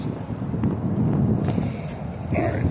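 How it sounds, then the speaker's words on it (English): Outdoor wind buffets the microphone in a continuous low rush, rising and falling slightly in strength, with no voices. "this wind out here is a bitch"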